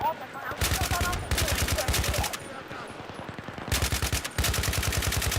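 Heavy gunfire in the video game Battlefield 3: long bursts of rapid automatic shots, loud and close, broken by short pauses, with a voice speaking excitedly over the shooting.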